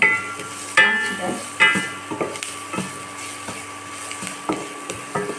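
Onions frying in a pan for a rice dish, a continuous sizzle with scattered clinks and scrapes of stirring, close and fairly loud throughout.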